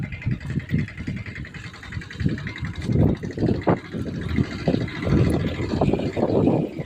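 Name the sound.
tractor engine running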